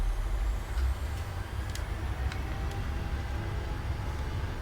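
Steady low engine rumble and roar of a Boeing 737 running up for take-off in a flight simulator, loud and continuous with faint high whine streaks, no talk.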